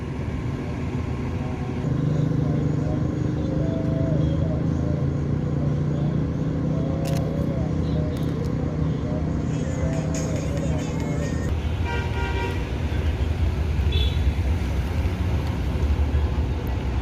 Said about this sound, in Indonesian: Ini pertanda bus akan berangkat menuju Jakarta